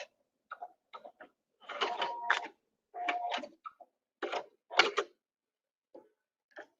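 A sewing machine stitches a circle in short separate bursts of quick mechanical ticking, with a couple of brief back stitches and pauses between runs, quiet and close in an otherwise silent room.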